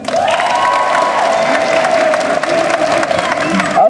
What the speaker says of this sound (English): Round of applause for them too.